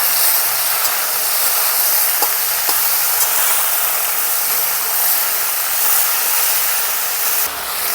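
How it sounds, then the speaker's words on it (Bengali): Potatoes and cauliflower fry with salt and turmeric in a covered pan, giving a steady, even hiss and sizzle that runs unbroken and fairly loud throughout, with no voices. "আলু আর ফুলকপিটা আমি ঢাকা দিয়ে ভেজে নিচ্ছি"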